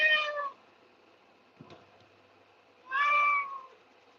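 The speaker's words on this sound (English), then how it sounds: "ragdolls, when they come in for grooming, a lot of the times they don't stop meowing" Ragdoll cat meowing while being groomed: two loud, drawn-out meows a few seconds apart, close to the listener, with a soft brushing sound between them and no talking.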